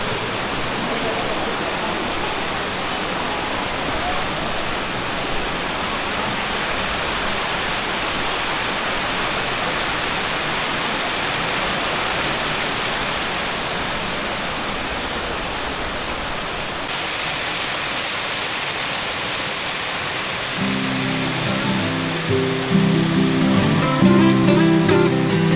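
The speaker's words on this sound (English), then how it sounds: "we are going to head down to the other little waterfalls" Small waterfalls at Cascada Juan Curi near San Gil give off a steady, broad rush of falling water that stays loud and even throughout, with a rougher, heavier splash near the end.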